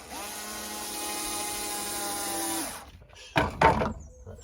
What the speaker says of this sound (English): So just finishing off screwing this panel back down there.